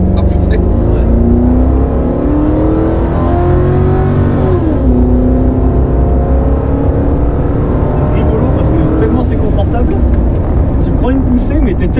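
A Lexus car's engine hums and revs while driving, loud and close, with rising and falling engine pitch. People talk over it throughout.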